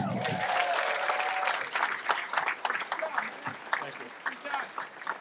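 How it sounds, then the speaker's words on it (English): A comedy show audience applauds steadily throughout, dense clapping that thins into scattered claps toward the end, with some voices mixed in. "Give him a nice round of applause there."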